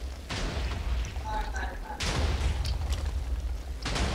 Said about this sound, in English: TNT's still exploding for me.